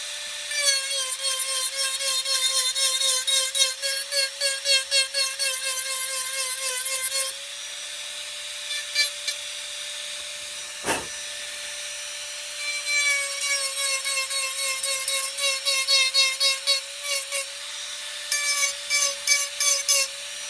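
Rotary tool with a ruby bit carving and smoothing a wooden otter head, a close high-pitched motor whine with rhythmic scratchy grinding bursts, pausing briefly in the middle before carving resumes.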